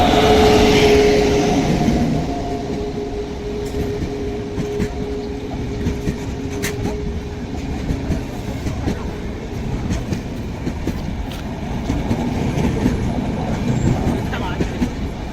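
A train rolls past close by, a steady loud rumble with rhythmic clickety-clack of wheels on rail joints throughout and a brief horn-like tone near the start.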